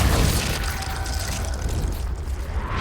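The explosive Confringo spell goes off in Hogwarts Legacy, a loud continuous boom and crackling roar that starts at full force and rumbles steadily to the end.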